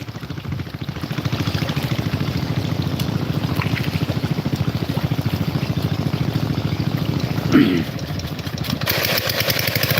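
A small machine engine runs steadily beside a fishing pond, giving a continuous rhythmic putter close by while people talk over it.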